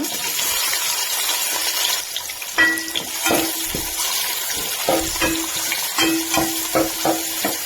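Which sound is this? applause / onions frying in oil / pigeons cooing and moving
onions frying in oil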